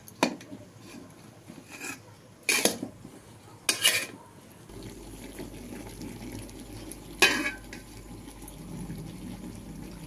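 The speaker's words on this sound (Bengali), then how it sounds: "জাল হতে থাকবে আর আমি নাড়তে থাকবো, বানাতে থাকবো।" Achaar (pickle) stirred in a pan as it cooks, with a few sharp scrapes and clinks of a utensil against the pan over a low, steady background hiss.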